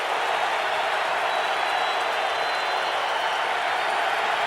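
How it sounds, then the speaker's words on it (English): Stadium crowd at an NFL game between the Indianapolis Colts and Atlanta Falcons, a loud, steady roar of fans cheering and urging on the defense on third down, dense and continuous throughout. "Crowd trying to get into it and help out their defense."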